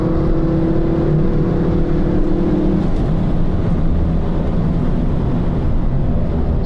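A Ford Focus RS500 engine pulls hard while driving through corners on a circuit. The loud, close drone changes pitch as it accelerates and stays continuous, with no talk over it.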